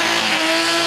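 A Porsche 911 RSR race car roars loudly up close as it peels out of the pits, engine howling with a hint of tire squeal in a short, sustained burst.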